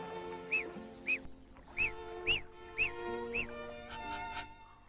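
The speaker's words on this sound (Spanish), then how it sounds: "Este pato ha sido aislado desde su nacimiento de otros miembros de su especie" A duck quacks repeatedly, about half a dozen clear nasal calls spaced roughly half a second apart, close and distinct over a faint background hum.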